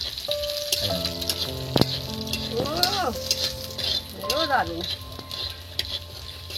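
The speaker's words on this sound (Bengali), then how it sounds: "প্রথমে আমি এই যে রসুনটা প্রথম এই তেলের মধ্যেই ছেড়ে দিলাম" Garlic sizzles in hot oil for a potato and pointed gourd bharta, a steady close crackle with stirring clatter, under an overlapping voice and harmonic animal-like calls that rise and fall midway.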